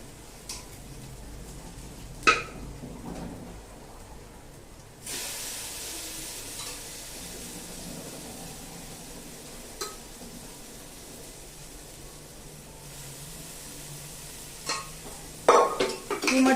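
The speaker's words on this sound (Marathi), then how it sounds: "ही मटकी मी याच्यामध्ये घालून घेतलेली आहे. आता हे छान हलवून घ्यायचं" Sprouted moth beans (matki) sizzle quietly in a pan over low gas while being stirred, with soft scraping and a few sharp clinks of a spoon against the metal near the start and end.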